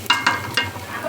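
Ingredients for pulao frying in a pan, a short close sizzle with three quick crackling bursts in the first half second, then a softer continuing hiss.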